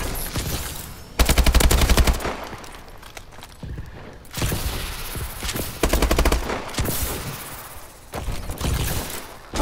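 Repeated bursts of automatic gunfire from the video game Call of Duty: Advanced Warfare, loud and close, with several sustained volleys separated by short quieter gaps.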